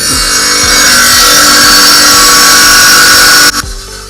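Rock-cutting saw blade slicing a thin section from a rock sample, a loud, sustained high grinding whine that cuts off abruptly near the end as the machine stops.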